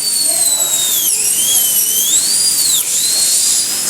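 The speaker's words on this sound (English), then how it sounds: "I'm just going to drill a hole over here as well." A high-pitched drill whines steadily while boring a hole in a turtle's shell, its pitch dipping twice under load and recovering, loud and close with no talk.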